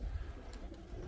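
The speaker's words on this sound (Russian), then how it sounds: "В общем, позагоняю сегодня голубей" Pigeons cooing at a rooftop pigeon loft on a windy day: a low, soft coo sits under steady wind rumble through the whole short stretch, with no voices.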